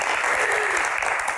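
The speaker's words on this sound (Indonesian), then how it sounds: "Tepuk tangannya mana?" Studio audience of university students bursts into applause on a Q&A talk show, a dense, steady, close clapping roar that fills the moment.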